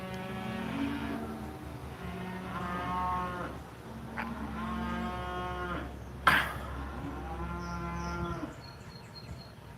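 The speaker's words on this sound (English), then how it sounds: "Do you hear all these cows, man?" Cows low in a series of long moos, one after another, with a brief sharp knock partway through and a constant low hum behind.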